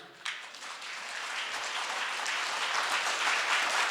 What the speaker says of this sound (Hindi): तो बोलिए समस्त राष्ट्रों तालियां बजाओ